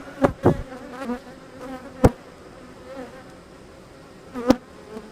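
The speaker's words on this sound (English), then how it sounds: "There's a ton of bees in here." A steady insect hum of many honeybees buzzing close by in a hive, with a few sharp clicks and knocks breaking through at intervals.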